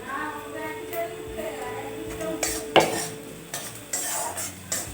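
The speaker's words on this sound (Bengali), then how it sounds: "এগুলো আমি হালকা আঁচে খুব সুন্দরভাবে ভেজে নেব।" Chopped garlic and ginger frying in a pan over low heat for a tadka, with a faint sizzle under repeated close clinks and scrapes of a utensil stirring against the pan.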